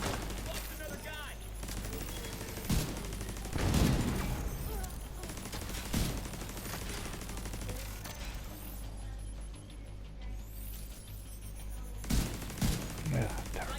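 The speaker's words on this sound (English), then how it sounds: "That's me firing with bonus." Rapid weapon fire in a video game, bursts of loud gunshots and machine-gun volleys spread across the stretch, with mechanical clatter between shots and game sounds underneath.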